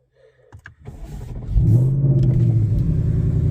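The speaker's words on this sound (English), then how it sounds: "Let's get in the Mustang. Let's start this up. Let's see what this sounds like." A Ford Mustang engine cranks with a few short clicks, catches, then settles into a steady, loud idle rumble with a low droning tone.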